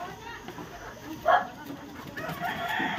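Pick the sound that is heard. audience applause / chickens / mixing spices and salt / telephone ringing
chickens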